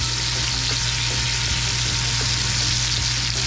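Steak searing in a hot pan during a home steakhouse dinner, a loud, steady sizzle with no break, close up, with faint low hum beneath and no talking.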